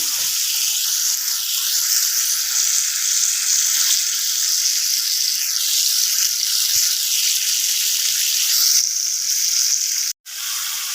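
Tomato with salt sizzling and frying steadily in a pan while being stirred, a continuous close hiss that briefly cuts out near the end, with no talking.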